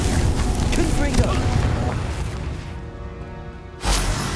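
Confringo fire spell blast in the Hogwarts Legacy video game, a booming explosive burst with whooshing rumble that fades, then a second loud impact near the end, all dense and close.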